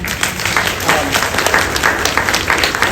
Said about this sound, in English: Oh, you get a round of applause for that.